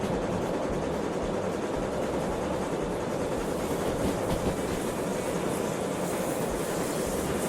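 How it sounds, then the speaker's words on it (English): A heavy locomotive-hauled train from the video game Derail Valley rolls through a corner at speed, a continuous loud roar of wheels and rails with faint rhythmic clatter, steady throughout with no voices. "Yeah, my train's coming through the corner."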